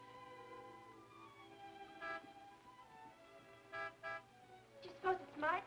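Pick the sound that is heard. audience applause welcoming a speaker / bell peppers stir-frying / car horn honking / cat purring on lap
car horn honking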